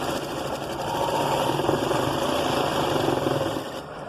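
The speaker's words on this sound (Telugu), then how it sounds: "లేకపోతే ఇలా మిషన్ కుట్టు వేసుకోండి." A sewing machine stitching a blouse sleeve for a six-year-old child, running in a steady, continuous whirring rattle at close range with no talking.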